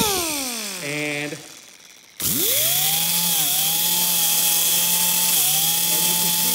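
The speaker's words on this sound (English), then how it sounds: "You can use a Dremel. You can get an air-powered one or an electric one." A Dremel rotary tool spins down with a falling whine, then starts up and cuts into upholstery foam, holding a loud, steady high-pitched buzz with slight dips in pitch under load, close to the listener.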